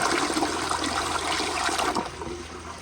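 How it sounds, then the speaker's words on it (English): A 2018 American Standard Townsend Vormax toilet flushes on siphon jet power alone, a loud rushing swirl of water that holds steady, then drains and fades toward the end. "So that's how it will flush on just the siphon jet power"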